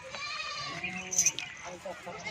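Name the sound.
goat bleating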